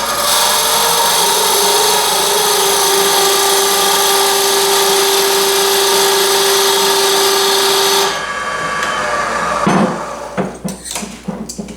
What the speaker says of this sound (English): I'm going to use my skew chisel to cut the tenon.